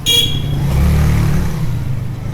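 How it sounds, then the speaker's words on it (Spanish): Busy Cuban street traffic: a car and motorcycle engine rumble close by with a rising rev, a short horn toot at the start, steady and loud throughout. "Una moto, un carro, un pito, una música."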